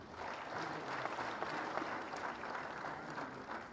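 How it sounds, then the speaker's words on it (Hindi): An audience at a World TB Day campaign launch in Jammu gives applause, a continuous soft patter of many clapping hands at a distance, fairly faint but steady throughout. "आप सबकी जोरदार तालियों में"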